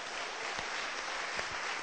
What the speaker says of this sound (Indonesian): Lalu kasih tepuk tangan untuk Tuhan.